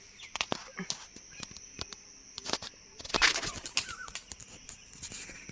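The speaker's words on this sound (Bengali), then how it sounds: "এখন পায়রাটাকে ছাড়বো" A Giribaz pigeon is let go outdoors, and a short burst of close wing flapping rises around the middle amid scattered taps and faint background noise.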